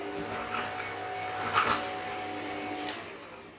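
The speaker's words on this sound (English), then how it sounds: "That is why I love this Hoover." A Shark NZ801UK vacuum cleaner runs in carpet and hard floor use with a steady, close motor whine, a couple of brief louder swells as it sucks up debris.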